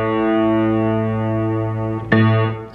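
A sustained, ringing piano string tone holds steady with many overtones during tuning, then a sharp strike near the end briefly changes its pitch.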